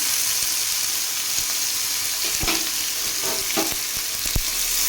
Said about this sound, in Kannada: ಇದನ್ನು ಸ್ವಲ್ಪ ಫ್ರೈ ಮಾಡ್ಕೊಂಡ್ರಿ